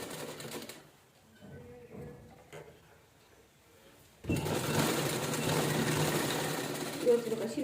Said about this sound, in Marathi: व्यवस्थित शिलाई लॉक करून घ्यायची